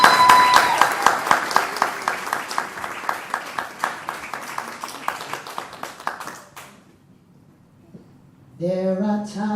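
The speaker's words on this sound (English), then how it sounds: "So if you guys can just give another round of applause for Miss Josephine." An audience at a Jump 4 Life event applauds Miss Josephine Howell with a loud burst of clapping that tapers and fades out after about six seconds, then a voice begins speaking.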